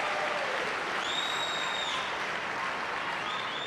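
A table tennis crowd at a world championship women's singles quarterfinal applauds steadily after a block, a continuous even wash of clapping from a distance, with no voices over it.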